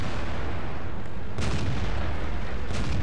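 Two heavy tank cannon booms in World of Tanks, from an IS-3 facing an IS-7, land about a second apart, loud and close, each with a deep rumbling tail over a constant low roar.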